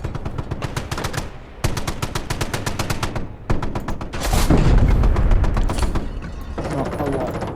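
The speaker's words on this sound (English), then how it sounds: "Let's see if we fire a HE shell at that." A World War II tank in the Panzer Elite video game fires HE shells, loud booming blasts that alternate with rapid bursts of machine-gun fire, close and with no talk.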